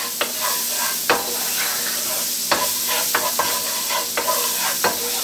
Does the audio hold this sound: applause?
no